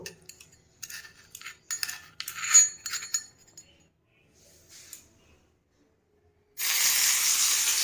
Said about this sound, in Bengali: কড়াইয়ের তেলটা গরম হয়ে গেছে। এবার আমি আদাটা দিয়ে দেব।